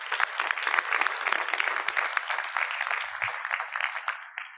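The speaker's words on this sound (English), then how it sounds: "So round of applause for our president and past president." An audience at a bariatric and hernia surgery conference gives sustained applause, loud dense clapping that fades near the end.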